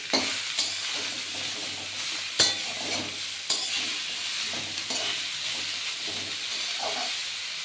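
Leafy greens (shak) frying with aubergine in an oily pan, a steady loud sizzle and hiss throughout with occasional sharp clinks of a spatula stirring.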